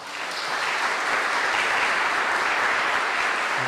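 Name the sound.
applause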